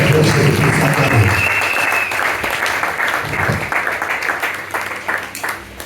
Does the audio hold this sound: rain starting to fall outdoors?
no